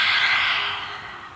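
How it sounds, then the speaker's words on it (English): A single loud, breathy exhale through the mouth during a beginner vinyasa yoga class, a rushing sigh that fades out over about a second. "Let it out through your mouth, make some noise"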